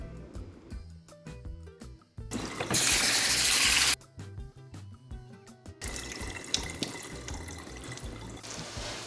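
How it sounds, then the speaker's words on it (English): Rice being washed under a running kitchen tap, with steady bursts of loud splashing water alternating with quieter stretches of handling and rinsing, and no talking. "Now let's wash our rice."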